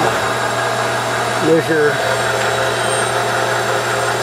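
A Jet 13x40 GHB-1340A metal lathe runs at 300 RPM with a steady, even mechanical hum and whir, while a person speaks briefly over it.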